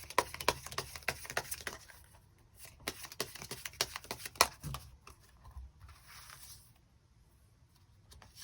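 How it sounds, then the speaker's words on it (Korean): Tarot cards being shuffled and drawn close up, a quick run of soft riffling slaps and flicks that tapers into quieter rustles. "추가 카드 뽑아보도록 하겠습니다"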